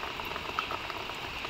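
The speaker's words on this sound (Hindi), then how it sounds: "अभी तक बारिश हो रही है, पूरा देख सकते हैं आप लोग।" Steady rain falling on a rooftop, a dense, even hiss of countless drops with no pauses, moderately loud and heard alone.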